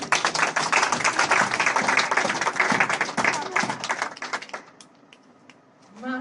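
A church congregation bursts into sustained applause and clapping, loud and dense for several seconds before dropping off abruptly into quieter room sound with a faint voice.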